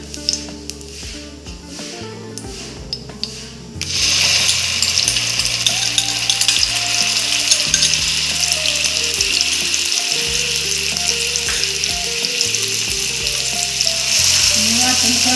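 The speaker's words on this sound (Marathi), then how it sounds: "या तेलामध्ये आपल्याला वाटण जे आहे ते पूर्ण छान परतून घ्यायचं" Ground masala paste sautés in hot oil in a pan with a loud, dense sizzle that starts abruptly after a few quieter seconds. Rhythmic stirring and scraping run steadily underneath.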